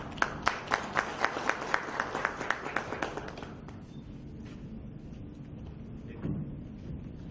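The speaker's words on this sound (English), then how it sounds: "Round of applause for Shrikant." A small audience at a talk on analytics projects claps for an incoming speaker: a run of distinct, evenly spaced claps for about three seconds that thins out and gives way to quiet room noise.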